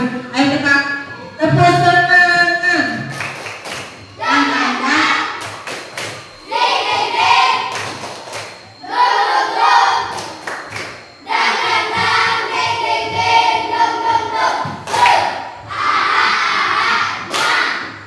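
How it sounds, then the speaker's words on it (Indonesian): A class of schoolchildren performs the rhythmic 'tepuk semangat' spirit clap, loud chanted voices interlocking with sharp, patterned bursts of hand claps and thumps in repeated phrases, close and energetic for the full stretch. "Ayo kita tepuk semangat."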